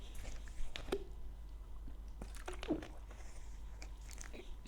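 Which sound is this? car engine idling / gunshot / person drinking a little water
person drinking a little water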